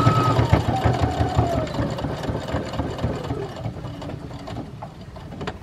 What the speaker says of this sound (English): just going to sew all the way around the whole thing